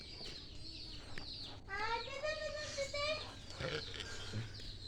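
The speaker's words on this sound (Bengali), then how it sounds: "তুমি এই মুরগি না ধরতে পারলে অন্য মুরগি ধরতে পারবা" Chickens cluck and call repeatedly at moderate distance on an Eid day outdoors, with rising harmonic squawks through the middle and children's voices and talk around them.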